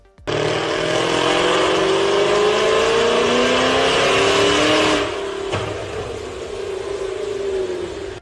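A powerful supercharged Camaro engine revs hard and loud on a dyno, its pitch climbing steadily for several seconds before easing off to a lower roar.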